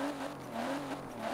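1992 GMC Typhoon with a V6 engine revving in Forza Horizon 4, a steady mid-pitched engine drone rising and falling slightly, close and continuous.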